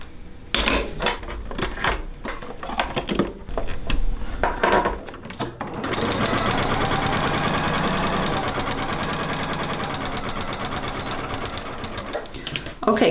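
A sewing machine runs a steady 1/4 inch seam along a fabric glasses case, a fast even mechanical whir lasting several seconds after some brief handling clatter and taps.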